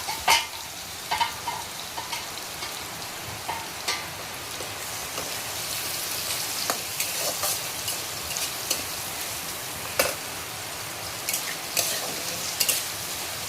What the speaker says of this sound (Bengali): মূলাগুলিকে একটু ভেজে লাল করে নেব।